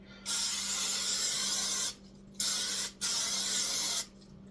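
Cooking spray hisses onto a baking pan for brownies in three bursts, a long spray followed by two shorter ones, loud and close with nothing else over it.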